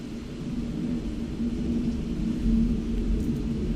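Thunder rumbling outside during a thunderstorm, heard from indoors in a living room as a steady low, dull roll that swells slightly toward the end, with no talking.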